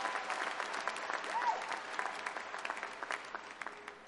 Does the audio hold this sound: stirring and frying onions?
no